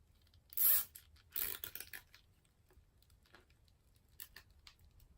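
Zip ties ratcheting tight on the back of a homemade ring light stand: two close, bright bursts of zipping plastic near the start, followed by fainter scattered clicks and rustles in a quiet room.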